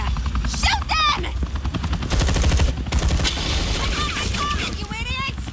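Gunfire rattles through a scene of the Batman The Enemy Within video game, loud rapid bursts layered over a helicopter-like rotor thrum, with shouting voices and chirping sound effects mixed in.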